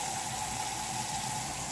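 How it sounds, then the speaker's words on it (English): Tap water runs steadily into a pot to be filled for boiling noodles for baked mac and cheese, a constant close-up hissing rush with no talking. "before you pour enough water in there"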